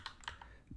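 A few quick keystrokes on a computer keyboard, light, faint clicks in a brief burst with no talking.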